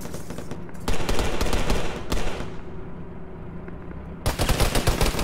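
Bursts of automatic gunfire in the military shooter Arma 3, two dense rattling volleys followed by a quieter pause, then another loud burst of rapid shots at the end.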